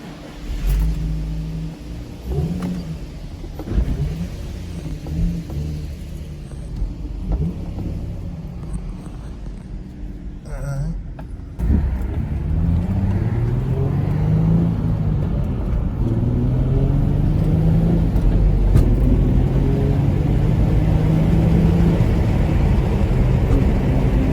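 Infiniti G35 engine running during a test drive after a clutch master and slave cylinder change, a steady rumble with rising revving tones that grows louder and fuller in the second half, with wind buffeting.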